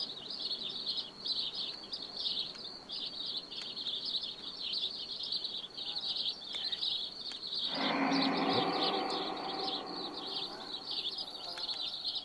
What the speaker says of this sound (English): The birds chirping and whatnot